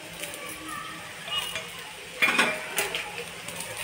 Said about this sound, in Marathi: हे सर्व परतून घ्यायचं.